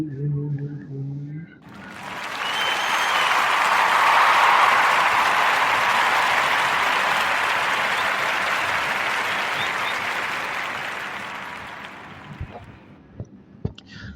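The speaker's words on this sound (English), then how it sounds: "Let's give a Narrative Podcast warm round of applause for the young lady" A big round of audience applause swells up after a short spoken line, holds as a dense, steady roar of clapping for about ten seconds, then thins to a few scattered claps.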